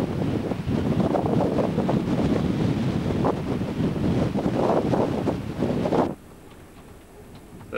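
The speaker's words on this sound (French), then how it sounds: "Beaucoup de vent sur La Rochelle aujourd'hui." Strong gusting wind buffets the microphone outdoors at La Rochelle, a loud low roar that rumbles steadily for about six seconds before dropping abruptly to a quieter hiss.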